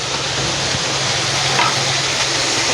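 Soybean curry masala with Kashmiri chili powder frying in a pan, a dense, steady sizzle with faint stirring, close-up and alone.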